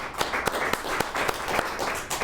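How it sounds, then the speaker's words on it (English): Audience at a Highlands Ranch Chamber of Commerce executive talk applauding a guest named Tom, a steady wash of many hands clapping with a few sharper individual claps standing out, fairly loud and close, no talk over it. "Let's give Tom a round of applause"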